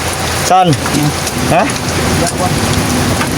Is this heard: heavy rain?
yes